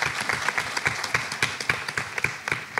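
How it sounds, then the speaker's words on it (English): A school audience at a careers day claps in a brisk, uneven burst, the individual hand claps distinct and fairly close, with no voices over it. "Can we give her a round of applause?"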